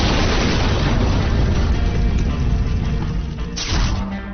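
A bomb blast aboard a bus in a TV crime drama: a loud, sustained explosive roar with crashing debris that fades slightly, then a second burst near the end.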